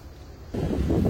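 Mistral wind picking up on a golf course near Aix-en-Provence, buffeting the microphone with a sudden surge of low rumbling gusts that stay strong to the end.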